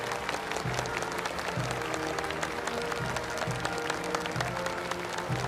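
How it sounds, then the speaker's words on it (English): An audience at a national awards ceremony for the PRC's 75th anniversary applauds the honorees of the national medals and honorary titles: sustained, even applause from a large crowd, with a low rhythmic background tone beneath it. "join me in the warm round of applause to pay tribute to all the honorees of the national medals and the national honorary titles"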